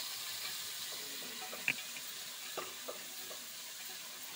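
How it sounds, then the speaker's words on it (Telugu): A large carrot fries in a pan for Bombay rava upma. A faint, steady sizzling hiss carries a few soft clicks and scrapes from stirring, with no one talking. "పెద్దది ఒకటి తీసుకున్నాను క్యారెట్. కొంచెం ఫ్రై చేద్దామండి."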